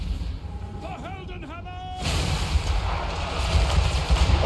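The Fireworks of Doom ability in Total War Warhammer 3 erupts in a loud, crackling burst of booms that keeps building, after a short stretch of whistling, chirping effects.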